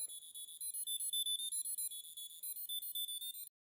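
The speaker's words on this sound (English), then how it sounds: "I was able to get the buzzer to work, but at 5 volts, it was not very loud" Rapid, evenly pulsed high-pitched electronic beeping from a gas alarm buzzer run at 5 volts, steady and fairly quiet, then it stops abruptly.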